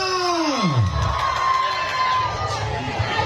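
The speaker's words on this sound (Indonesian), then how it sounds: "Sekali lagi tepuk tangan untuk Senopati dan Angling Dharma." A crowd at a tug-of-war tournament final cheers and shouts loudly, with whoops rising over a steady roar of many voices, sustained throughout.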